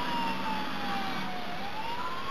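Ambulance siren in the video game GTA 4, a steady wailing tone sliding slowly down and back up, loud and continuous over a dense roar of engine and street noise, with no talk.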